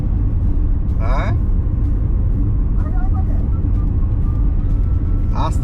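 Steady in-car road rumble from a car cruising slowly on a road trip along the Great Ocean Road in Australia, a constant low drone throughout with brief speech in between.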